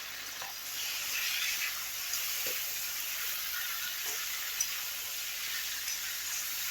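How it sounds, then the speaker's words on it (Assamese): Pigeon curry seasoned with salt and turmeric frying in a pan, giving a steady soft sizzle and hiss throughout with no talk over it. "20 মিনিটমান ভালদৰে ভাজি লওঁ।"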